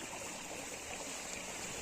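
Water flowing steadily at a Ramdev Pir temple, a soft continuous rushing wash like a small stream, fairly quiet and unbroken, with no talk.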